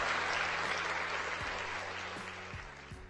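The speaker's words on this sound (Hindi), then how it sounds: "सभी लोग तालियां बजाने लगते हैं।" Villagers gathered in a crowd clap together, a broad, continuous wash of applause that slowly fades, with faint tonal background sounds underneath.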